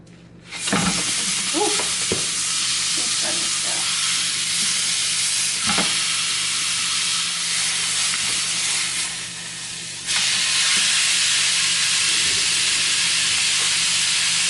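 Taco meat fries in a pan with a loud, steady sizzle and hiss that lasts throughout. Occasional stirring scrapes and clunks break in early on, and the frying swells louder toward the end, with no voices.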